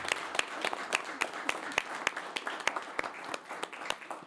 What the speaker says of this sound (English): join me in a round of applause to thank our board members for all of their service